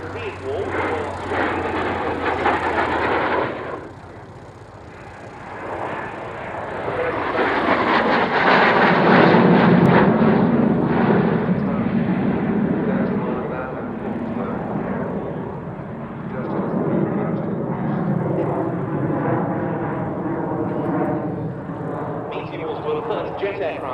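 Gloster Meteor jet aircraft engine at RAF Duxford, a loud rushing roar that swells, eases and builds again over a long pass, heard from a distance with steady broadband whine and no talk.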